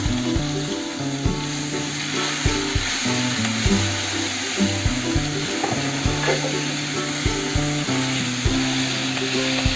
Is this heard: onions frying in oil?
yes